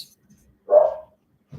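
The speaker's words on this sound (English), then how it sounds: "Oh, sorry if you can hear my dog barking." A single short dog bark, fairly close, in an otherwise quiet room.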